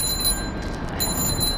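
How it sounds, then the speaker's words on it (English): A bicycle bell rings in a bright, sustained metallic trill over steady background noise. "Bells, bells, we've all got bells."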